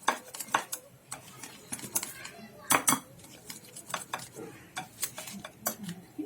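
Dhokla batter whisked quickly in a bowl after adding Eno, a rapid series of close clinks and scrapes of a utensil against the bowl, with faint talk in the background.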